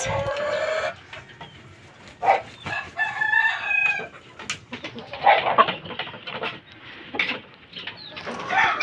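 Gamecock chickens at feeding time, with busy clucking and crowing from several birds nearby and farther off, set against a steady outdoor background.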